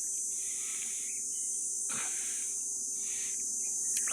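Rain beetles (mazhai vandu) calling from inside a tree in a rainy-season setting, a continuous high, shrill insect drone that holds steady throughout, alone with no talk.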